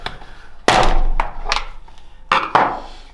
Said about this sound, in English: pushing our screwdriver down here and just prying the two parts apart